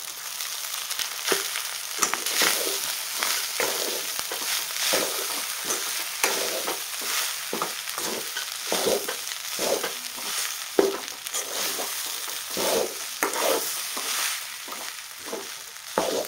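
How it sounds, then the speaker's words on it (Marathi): Leftover rice is stir-fried in a hot pan with a sizzling tempering, a continuous loud hiss broken by frequent rhythmic spatula scrapes and stirring knocks throughout. "आता आपण ह्याला परतून घेऊया."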